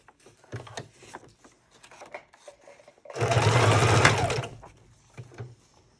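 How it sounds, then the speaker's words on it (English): A sewing machine makes a single short burst of stitches through junk journal pages, a loud close whir of about a second amid quiet handling noises. "since I'm sitting at the sewing machine, I'm just going to throw a couple of stitches in those"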